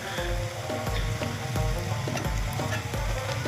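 Ground paste of cumin, ginger, garlic and coriander frying in a pan over browned onions, a continuous close sizzle with a regular rhythm of utensil scrapes and taps about twice a second.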